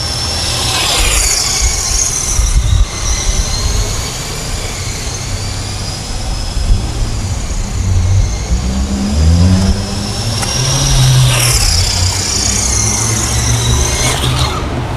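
A GPTOYS McGruff S626 RC car drives over urban terrain, its electric motor giving a steady high whine that rises and falls with throttle, with tire squeals and rough surface rumble running throughout.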